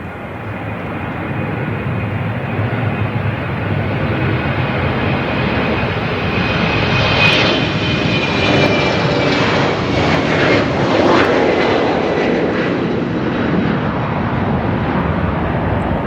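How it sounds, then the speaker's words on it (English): A fixed-wing airliner takes off on runway 27 at London City Airport, its engine roar loud and steady throughout, swelling slightly in the middle as it climbs away. "runway 27, clear for takeoff"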